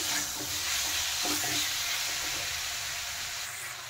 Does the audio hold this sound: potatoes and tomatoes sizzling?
yes